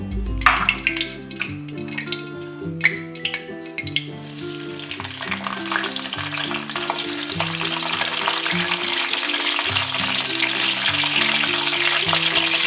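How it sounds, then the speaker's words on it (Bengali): Cauliflower florets frying in hot oil until browned, a loud close sizzle that builds into a dense steady hiss, with a few stirring knocks early on and a low rhythmic hum underneath. "কপিগুলোও লাল লাল করে ভেজে দেবো"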